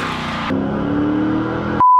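An LS V8 swapped into a BMW E30 rumbles loud and close, its tone shifting partway through, before a sudden sharp electronic beep cuts in at the very end.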